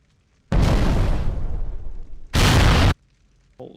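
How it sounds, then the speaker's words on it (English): A loud, deep large explosion sound effect from the video game Halo Wars booms twice in quick succession, the first with a long rumbling decay and the second an abrupt blast, each followed by near silence. "Play large explosion."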